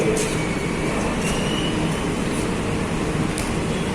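KA Majapahit passenger train rolling into a station on track 3: steady loud rumble of rail wheels with faint squeals and clicks throughout, no talking.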